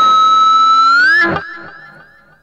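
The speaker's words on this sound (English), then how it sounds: "That is fat distortion." A guitar played through a Boss Katana amp with a fat distortion effect sounds a sustained, saturated note that bends upward, followed by a brief chunky strum that fades out.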